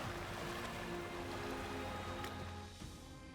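Ocean waves crash below the cliffs beneath a sea temple in southern Bali, a steady, loud, broad roar of surf with no gaps that eases slightly near the end.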